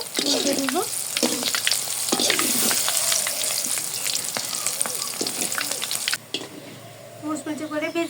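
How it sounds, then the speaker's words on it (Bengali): Raw plantain fritters sizzle steadily in hot oil, with crackling bursts and a few clinks as they are turned over; a voice talks briefly over the frying. "ঠিক ভাজা হয়ে গেছে, উল্টে দিব।"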